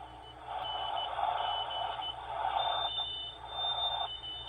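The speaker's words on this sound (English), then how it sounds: "there's a little bit of Morse code in that" Shortwave SSB radio static with a faint, intermittent high tone keying on and off like Morse code, heard beneath noisy hiss.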